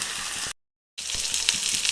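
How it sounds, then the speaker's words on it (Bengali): Small onions, potato and drumstick pieces fry in oil with a close, steady sizzle, broken by a brief silent gap before the crackling resumes. "ছোটো ছোটো পেঁয়াজ আলু ডাঁটা ভালো করে এবার ভেজে নেবো"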